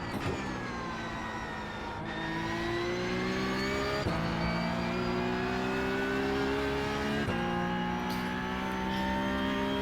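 Race car engines in a sim racing game during a PESC regional finals race, a loud, close, high-revving whine that climbs steadily and drops sharply at each gear change, repeating every couple of seconds.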